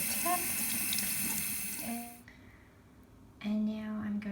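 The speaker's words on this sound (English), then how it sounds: "Then give it a good rinse under the tap." Sterling silver jewellery rinsed under a running kitchen tap, water splashing steadily into a sink for about two seconds, then a brief pause before the flow resumes, close by, with no speech.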